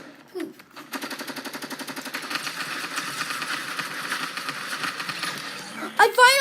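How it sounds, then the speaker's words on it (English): A light machine gun in a video game fires a steady, rapid rattle of shots that starts in spaced pops and runs continuously at moderate loudness, with short in-game sounds near the end. "You're telling me the light machine gun's back?"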